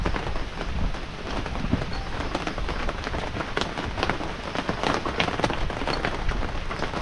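Steady rain falling on a farm, an even, continuous patter with scattered sharper drops hitting nearby surfaces, no voices over it.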